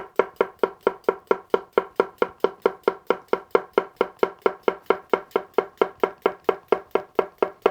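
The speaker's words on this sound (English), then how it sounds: "Something like a cucumber is phenomenal for either tap or push chopping." A bunka knife push-chops a cucumber on a cutting board, a fast even rhythm of crisp knocks repeating many times, close and clear with no talking.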